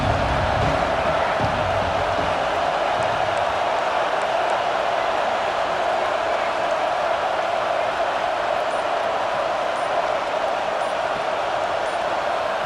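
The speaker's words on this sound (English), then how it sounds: "with this place rocking, the crowd forces a false start" A stadium crowd roars in the video game EA Sports College Football 26, a loud, sustained wall of noise that holds steady throughout with no distinct voices standing out.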